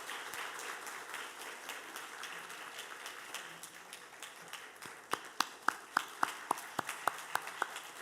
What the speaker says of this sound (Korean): 여러분 박수로 축하해 주십시오.